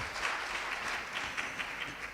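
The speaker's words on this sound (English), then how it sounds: "you all deserve a hand of applause" A closing-ceremony crowd applauds in a continuous, fairly strong wash of many hands clapping at once, without breaks or speech.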